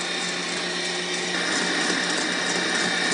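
An electric mixer whirs steadily and loudly, beating sugar and cream of tartar toward stiff peaks for homemade banana pudding, a continuous close motor drone with no talk.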